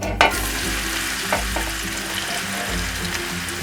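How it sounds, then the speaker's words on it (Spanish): Chopped onion frying in garlic-flavoured oil in a pan, a steady close sizzle opening with a sharp burst as the onion lands, then a few stirring clatters. "ahora vamos a agregar la cebolla picada"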